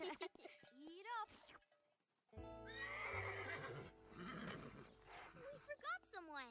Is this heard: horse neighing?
yes